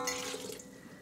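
Water poured into a mixing bowl of wet cake batter ingredients, a brief close splashing trickle, quiet and alone, tapering off after about a second.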